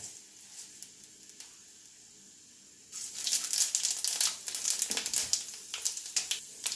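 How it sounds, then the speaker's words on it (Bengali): Bay leaf and panch phoron spices hit hot oil in a kadai for a Bengali shukto, a quiet start breaking into a loud crackling, popping sizzle with sharp crinkly spits. "একটু তেজপাতা দিয়ে দিচ্ছি আর একটু দেবো পাঁচ ফোড়ন"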